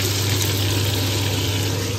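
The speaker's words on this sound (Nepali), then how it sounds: "अब अहिले चाहिँ म चाहिँ फुल्न पानीहरू हाल्दैछु" Water being poured into a pan of frying chicken pickle, a steady continuous gushing and sizzling wash that stays even and fairly loud throughout.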